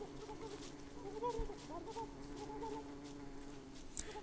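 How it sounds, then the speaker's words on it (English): A turkey, the gobbler creature from the Thanksgiving update of the video game Don't Starve, lets out a couple of warbling gobble calls mid-clip over steady in-game ambience. "there's the gobbler. It's a turkey, which was added in the update for Thanksgiving"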